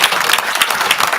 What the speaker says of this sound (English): I hope you join me in giving our governor, John Bell Edwards, a Southern University healthy round of applause